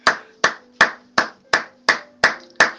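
A church congregation applauding in unison, eight sharp, evenly spaced claps at a brisk steady rhythm, close and loud with no talk.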